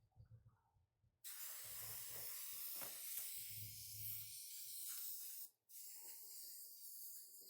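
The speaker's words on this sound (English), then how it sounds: "I'm going to get this back sprayed in with some polyacrylic" Polyacrylic sealer is sprayed onto the back of a milk-painted piece of furniture in a long, steady hiss that starts after a second of quiet, briefly cuts out near the end, then resumes.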